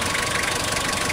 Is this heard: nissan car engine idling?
yes